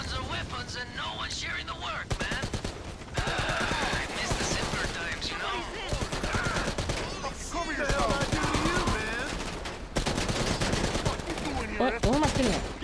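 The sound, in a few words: gunfire in the video game GTA Online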